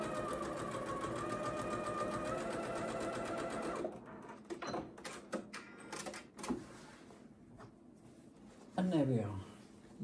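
A sewing machine with a 1/4 inch foot stitches quilt fabric in a steady, rapid rattling run for about four seconds. It then stops, leaving softer handling clicks and someone talking.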